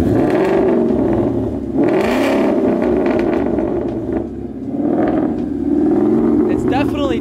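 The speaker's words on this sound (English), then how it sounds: "give it a couple revs with the resonators on" A Ford Mustang engine with its resonators on revs hard several times, a deep throaty roar rising and falling, loud and close, with brief voices near the end.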